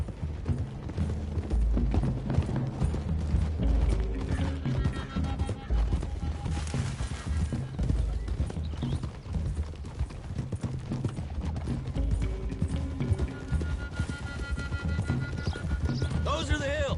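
Horses gallop across a video game's hill country in a rapid, continuous clip-clop of hooves with occasional neighs, loud and close, under a mix of game music and sound effects.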